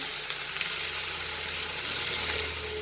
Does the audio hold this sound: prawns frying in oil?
yes